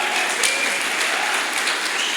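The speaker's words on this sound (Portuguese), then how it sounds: "Pode aplaudir a Deus por isso, queridos?" Church congregation applauding God during a sermon, steady dense clapping at an even level for the whole stretch, with no voices on top.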